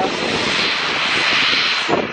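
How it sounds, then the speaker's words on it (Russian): Small airplane coming in to land at Mai Khao Beach, Thailand, roars loudly overhead as a continuous, dense engine and air rush that holds steady throughout. "Но это был маленький самолет"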